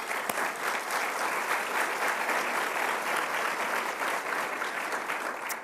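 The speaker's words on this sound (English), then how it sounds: "Let's give these folks a round of applause." Guests at a policy luncheon give a round of applause: even, sustained clapping from a room full of people, moderately loud and alone with no talk over it.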